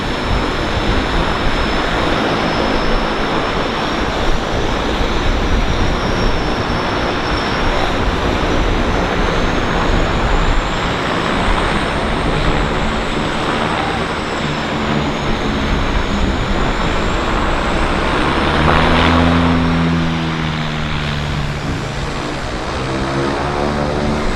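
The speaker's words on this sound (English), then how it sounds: "Twin Otter right here, right now." A de Havilland Twin Otter propeller aircraft at a downtown harbour airport, droning loudly and steadily with a pulsing propeller tone that shifts in pitch as it passes close by, without talk.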